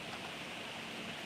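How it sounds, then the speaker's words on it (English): Rain falls in a faint, even hiss with no voices, a soft, unbroken wash of steady patter. "you can hear the rain"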